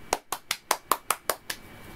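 Eight sharp hand claps in a steady, even rhythm, close and crisp, the last one slightly softer, followed by quiet.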